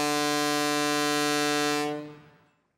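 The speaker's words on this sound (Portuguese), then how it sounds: "A buzina do barco não é um brinquedo." A loud, steady boat horn blasts for about two seconds on a river, a rich buzzing tone that then fades away.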